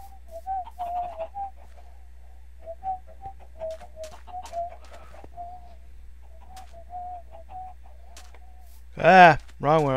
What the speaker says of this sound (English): Found a bunch of chickens in two buildings.